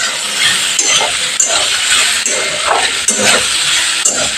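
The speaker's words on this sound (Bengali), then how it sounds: "এবার পাস্তার সাথে হোয়াইট সসটা আমি একটু ভালো করে নেড়ে নিচ্ছি" Pasta is stirred with white sauce in a pan, giving a steady wet sizzle and scraping with faint clinks of utensil on metal throughout.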